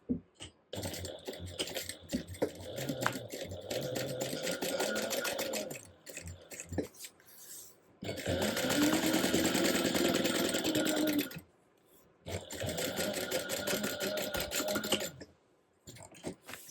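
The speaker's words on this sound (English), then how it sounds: "we're going to top stitch along the lining piece at 1/8 of an inch seam allowance" A sewing machine top stitches along a lining piece at an eighth-inch seam allowance, running in three bursts of rapid rhythmic stitching with short quiet pauses between them, close and fairly soft.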